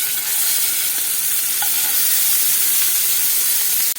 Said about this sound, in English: Fry the patties.